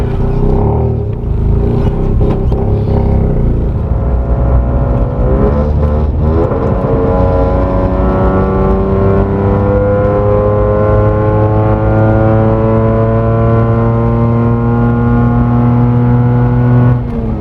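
A Mazda RX8 with a 13B rotary engine, check-engine light on and struggling to rev, is held flat in first gear, a loud, continuous rising engine whine close by with climbing tones.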